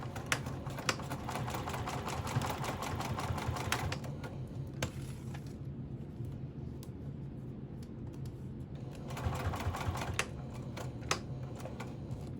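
A sewing machine stitches across a zipper end on a fabric pouch in rapid mechanical bursts, pausing briefly midway, then running again with a few sharp clicks.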